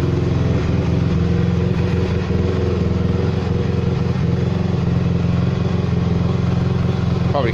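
A 2005 Honda CRF250R motorcycle engine idles steadily up close, a loud, continuous rough burble with a faint mechanical clatter throughout and no talking.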